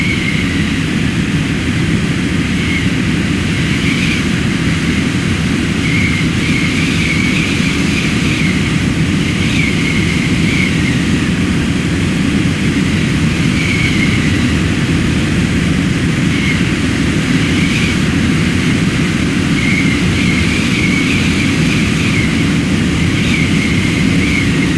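Steady, loud drone of a light airplane engine in flight in the FSX Steam Edition flight simulator, with a constant propeller hum and no talk throughout.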